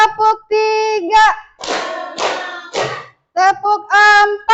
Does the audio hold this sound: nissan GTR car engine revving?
no